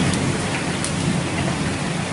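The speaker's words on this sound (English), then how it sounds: "A neighborhood street turned into a river as hail pelted cars and homes." Hail and heavy rain pound cars and homes along a flooded neighborhood street in McKinney during a hailstorm, a dense, unbroken roar of pelting impacts with no voices.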